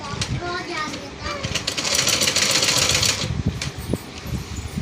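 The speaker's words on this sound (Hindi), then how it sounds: "अब हम इस पर सिलाई लगा देते हैं फिटिंग की सिलाई लग रही है" A sewing machine runs a fitting seam on a frock, its steady mechanical whir mixed with rapid stitching clatter, close and continuous under a speaking voice.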